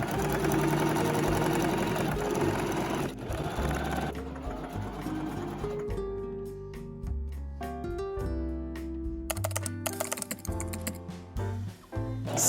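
A sewing machine stitches the hem of high-waisted elastic waist shorts, its motor whirring in quick bursts with rapid needle clatter, stopping and restarting several times up close.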